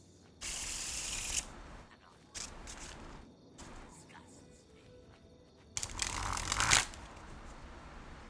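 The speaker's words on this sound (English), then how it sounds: "Hopefully the card shuffling's not too loud." Playing cards being shuffled up close, two loud riffling bursts with quieter handling sounds between them.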